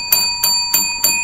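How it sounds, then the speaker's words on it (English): A bell rings in sharp, evenly spaced strikes during a sports radio broadcast, each ring bright and ringing out briefly before the next, clear and alone with no talk over it. "5 bells. 5 bells."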